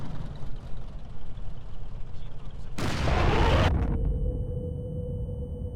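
A tank's main gun fires once in a video game: a single heavy, booming blast that rings out for nearly a second over a low, steady engine rumble, with no one talking.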